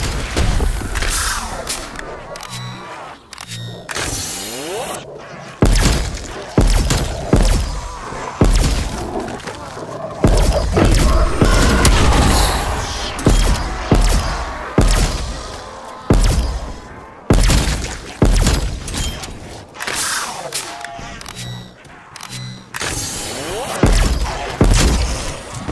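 Repeated frag grenade blasts and gunfire in Call of Duty zombies mode, a relentless sequence of loud cracks, booms and shattering impacts with brief gaps between bursts.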